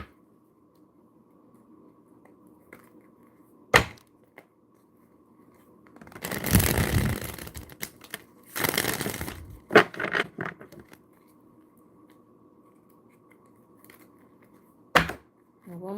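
Tarot cards are shuffled by hand in two longer riffling bursts in the middle, with isolated sharp taps and clicks before and after against a quiet room hum.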